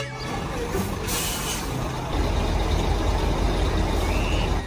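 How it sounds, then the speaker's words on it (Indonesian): A concrete mixer truck drives past at close range on a road. Its engine roars loudly and steadily, a short air-brake hiss comes early, and the low rumble grows heavier in the second half. "Wah, ada truk molen,"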